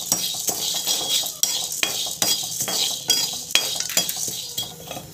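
A spoon stirs and scrapes poppy seeds roasting in a pan, with steady dry hissing and sizzling broken by repeated close metallic clinks and scrapes against the pan, roughly every half second to second, with no one talking.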